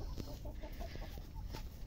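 Hens clucking and murmuring close by in a Vietnamese farmyard at dusk during egg collection, a series of short, soft clucks in uneven rhythm over steady rustling background noise.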